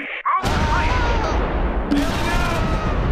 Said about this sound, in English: The mortar drops rounds.